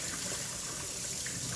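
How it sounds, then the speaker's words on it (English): Cool tap water running steadily into a sink while a chicken is rinsed, a soft continuous splashing hiss heard close and alone. "turn your water on cool and just give your chicken a really good rinse and rub"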